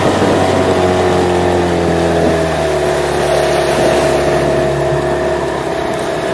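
Small boat planing under a new 15 hp Parsun T15BMS outboard motor at about 2700 rpm, a loud steady engine drone with water rush, close and continuous throughout.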